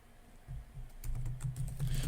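Headline being typed on a computer keyboard: a close, quick run of key clicks that grows busier and denser toward the end, with no voices.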